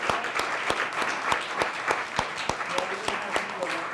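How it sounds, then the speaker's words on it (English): Applause from an audience at a scholarship reception honoring a group posing for a photo, steady claps filling the room with a brisk, even rhythm, with some voices mixed in. "You can applaud them while they get their picture taken."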